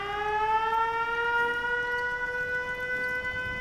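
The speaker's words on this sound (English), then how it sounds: "I don't want the siren going off all the time" A camp alarm siren in Fallout 76 wails steadily and loudly, its layered tones gliding slowly upward, heard alone without talk.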